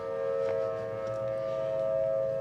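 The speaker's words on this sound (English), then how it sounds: "You can actually hear the tornado sirens out here." Outdoor tornado sirens near Memphis, Tennessee sound as a steady, sustained mechanical wail carrying from a distance, holding an even pitch throughout.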